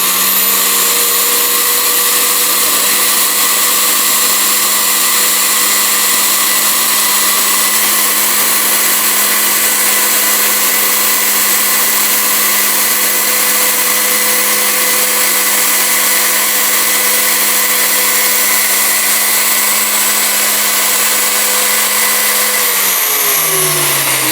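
A GTM ST1201A electric tile cutter with automatic carriage feed runs at a constant, loud, close-up motor whine with a steady hum for over twenty seconds, then begins spinning down at the end.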